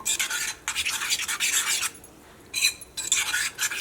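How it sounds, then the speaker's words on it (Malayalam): A semolina and milk mixture is stirred briskly in a bowl, making bursts of close scraping and swishing strokes separated by short pauses. "ഒഴിക്കാൻ പോണതിന് മുമ്പ് ഒന്ന് നന്നായിട്ട് മിക്സ് ചെയ്തിട്ട് വേണം ഒഴിക്കാൻ വേണ്ടിയിട്ട് കേട്ടോ"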